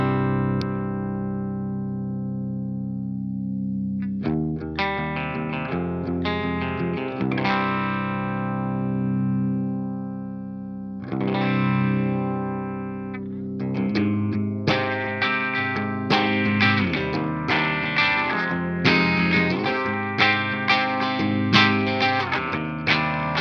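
Guitar on an amp's clean channel through a DemonFX OTA phaser pedal: ringing chords and single notes that swell and sweep, starting sparse with long decays, then building into busier strummed phrases near the end.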